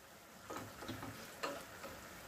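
Chicken frying in a pan, a soft, quiet sizzle with a few brief stirring scrapes and clicks, no voices.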